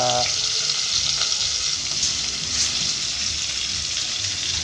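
Fish fries in a pan with a steady, bright oily sizzle that holds at an even level throughout, close and loud, with no pauses.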